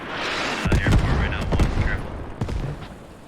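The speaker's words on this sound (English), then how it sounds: "Yeah, it's mortars. Shooting at me now." Mortar fire in a war video game, a rapid series of heavy booming blasts and crackling gunfire, loud and close, with a voice speaking over it.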